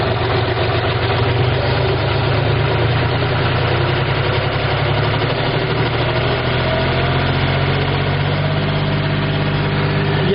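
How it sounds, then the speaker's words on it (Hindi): A tractor engine runs at a steady, loud, close idle with a continuous low throb, its pitch shifting upward in the later seconds as the revs are raised. "अब हम इसको आरपीएम जो है वो बढ़ाएंगे।"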